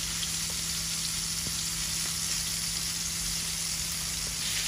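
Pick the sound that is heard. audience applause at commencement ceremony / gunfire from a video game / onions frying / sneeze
onions frying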